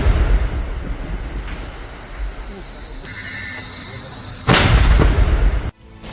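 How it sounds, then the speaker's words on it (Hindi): A controlled explosion destroying an IED: a sharp, booming blast bursts out over a constant rushing outdoor din, then cuts off abruptly into quieter background noise. "देखिए आईईडी को धमाके के साथ नष्ट कर दिया गया।"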